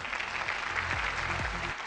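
A studio audience on a television show applauds, a steady patter of many hands at moderate volume, with a few faint low tones running beneath.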